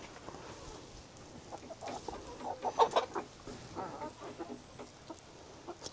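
Chickens cluck softly on a farm in short, irregular bursts, with a louder cluster of clucks in the middle, the sound faint and close throughout.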